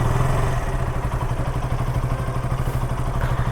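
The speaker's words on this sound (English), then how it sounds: "let's also hear the exhaust note from KTM Duke 200." A KTM Duke 200 motorcycle engine idles with a steady, throbbing exhaust burble, loud and close, running evenly throughout.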